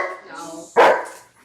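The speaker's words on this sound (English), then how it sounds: "I apologize for the dog as well." A single sharp dog bark, close and loud, cutting in after a stretch of indoor talk during a live-streamed religious service at home.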